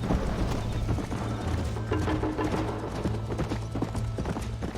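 Horse hooves galloping in the Western video game Red Dead Redemption, a steady rapid clip-clop rhythm running throughout at moderate loudness over low rumbling background.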